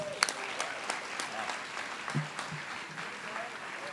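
A round of applause from the audience at a school district board of education meeting, honoring students; steady, fairly faint clapping carries on through the whole stretch, with a few sharper claps near the start.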